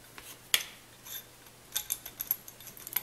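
A valve being screwed into a Drozd magazine cap gives a series of small ratcheting, clicking metal sounds, close and quiet, with a sharp tick early on and quicker clicks toward the end.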